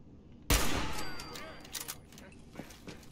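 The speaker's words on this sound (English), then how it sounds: "I guess we'll just go with the pistol then" Pistol fire in Fallout 4 survival mode: a sharp loud shot opens, followed by scattered fainter reports and clatter under background game noise.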